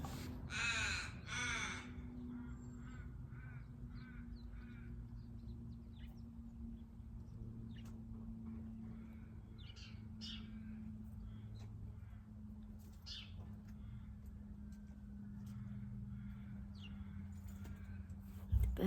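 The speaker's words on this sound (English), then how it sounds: "The birds are so beautiful today." Crows caw outdoors, a burst of loud calls at the start followed by scattered caws at a distance over a low background hum.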